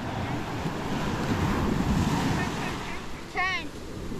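Seawater splashes in a constant loud rush off Punta Cana, with heavy wind noise on the microphone and a brief high whistling cry near the end.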